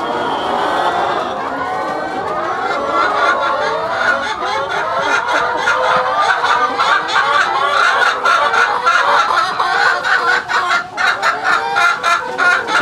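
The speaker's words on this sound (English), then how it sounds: "we had some laying hens down here in the laying coop" A large flock of laying hens clucks and chatters inside a farm laying coop in the morning, a loud close dense chorus of overlapping calls throughout.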